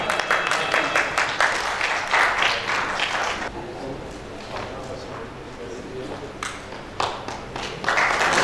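An audience at a Bahawalpur stage award show applauds as a best-actor winner is welcomed onto the stage. The clapping is moderate and scattered, dips in the middle and then picks up again near the end.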